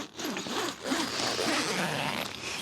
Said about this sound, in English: the zip, let's have a look inside